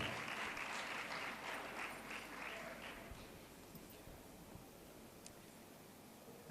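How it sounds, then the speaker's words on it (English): A crowd at a youth event gives a big round of applause, loud and dense at first, then gradually thinning and fading away into quiet room noise. "And with that big round of applause"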